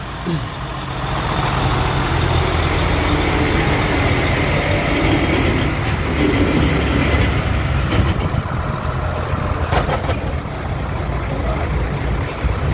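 Heavy road traffic on a rough road under construction in Lupi, Camarines Sur, with a loud, close, continuous rumble of idling and moving trucks and a few faint beeps over it.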